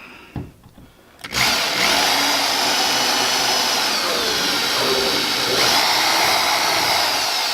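Power drill fitted with a slightly larger bit, boring during an outrigger installation; after a couple of brief knocks it starts up into a loud, continuous, close whir held steadily for several seconds.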